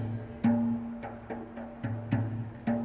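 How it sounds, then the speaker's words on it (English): Conservatory musicians play a Malay Inang rhythm, with sharp drum strokes landing at an even, repeating pace over sustained low tones, moderately close and with no talking. "So the Inang rhythm sounds like this."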